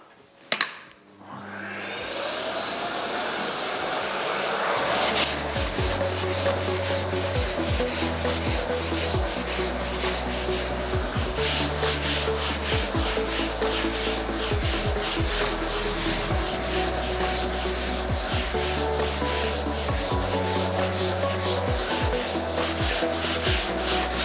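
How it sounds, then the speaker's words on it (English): Body filler on the panel of an XC Falcon panel van is hand sanded with a short 80-grit block. The close scraping strokes repeat in a steady back-and-forth rhythm and carry on throughout, with no talking. "I'm just using a short block because I don't want to be dragging 80 grit over all these edges"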